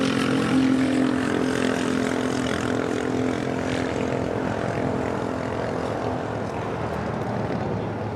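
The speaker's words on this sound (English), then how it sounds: "this is the Pride livery with Aeromexico, flight 642, coming in from Mexico City" An Aeromexico airliner in Pride livery, flight 642 from Mexico City, arrives at LAX with a broad, steady engine roar that fades slightly as it passes, heard from a spotting position outdoors.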